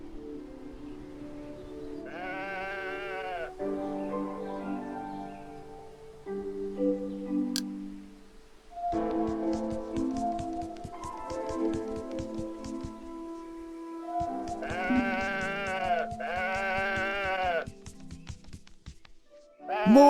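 Sheep bleat in several loud, drawn-out wavering calls, one near the start and a pair later on. Between them come ticking and tonal musical sounds.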